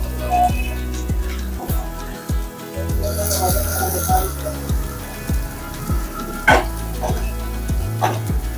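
Finely chopped onion fries in hot oil with cumin, giving a steady close sizzle with crackling pops and a few sharp spatters throughout.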